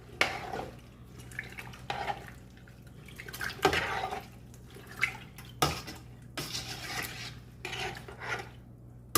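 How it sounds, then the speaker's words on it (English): A pot of food with seasoning mix and potatoes is stirred, giving scattered scrapes and clinks of a utensil against metal and a light watery slosh in irregular bursts, close and moderately loud. "Let's stir it."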